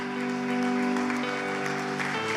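A crowd applauds steadily, a dense wash of clapping beneath a sustained musical tone that shifts pitch partway through.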